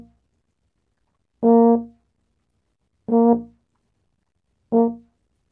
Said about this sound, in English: If instead I did that by stopping the notes with my tongue, as some players do, that sequence would sound something like this.